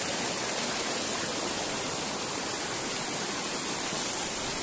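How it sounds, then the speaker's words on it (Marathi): Constant broadband rush of a flowing stream, close and steady throughout with no pauses or speech. "पाण्याचा आवाज मस्त येतोय"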